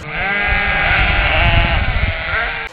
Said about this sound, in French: des bêlements de moutons.